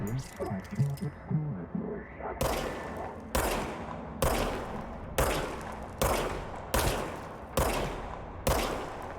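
The player's gun in the game Control fires roughly eight heavy shots at a steady, deliberate pace, each a loud sharp crack with a ringing decay, after some earlier rattling activity.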